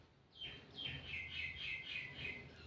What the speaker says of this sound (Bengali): বাইরে পাখিদের কত সুন্দর কিচিরমিচির আওয়াজ শোনা যাচ্ছে